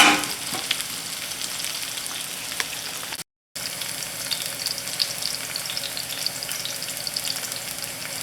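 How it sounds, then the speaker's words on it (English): Shallots fry slowly in a pan over medium heat, a continuous even sizzle crackling close by for several seconds, dropping out for a brief moment before resuming at the same level, with no one talking. "So slowly we're going to bring up to a light caramelization or browning on our shallots."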